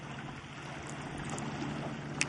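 Distant boat traffic off the rocky coast of Llucmajor, Mallorca, a low continuous drone blended with soft water wash, and a brief sharp click near the end.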